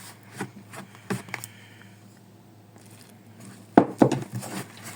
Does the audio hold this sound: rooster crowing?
no